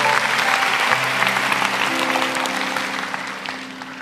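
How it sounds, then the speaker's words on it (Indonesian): Loud congregation applause in a church service, continuous clapping from many people over a steady hum of organ or keyboard chords, slowly tapering off. "kasih tepuk tangan untuk Tuhan."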